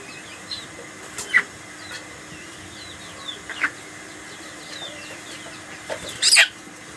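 Chicken clucking and squawking during beak trimming with a hot-blade debeaking machine, a few short calls and one loud squawk near the end over quiet farmyard background.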